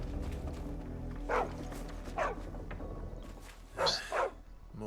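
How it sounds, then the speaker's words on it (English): Dog in Final Fantasy 16 giving a few short barks and yips spaced over several seconds, moderately near, over a soft ambient game background. "Oh, it's a doggy."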